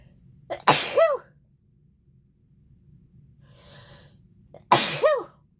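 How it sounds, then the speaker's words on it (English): Two sharp sneezes, each with a quick sharp inhale before the burst, separated by a few seconds with faint breathing in between. "I think I might sneeze here in a minute."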